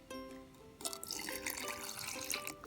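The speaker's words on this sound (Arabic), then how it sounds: "انزل بنص كوبايه اللبن" Half a cup of milk pours into cake batter for a strawberry jelly cake, a faint soft splashing trickle that turns into a fuller, bubbly liquid stream partway through, with no talking.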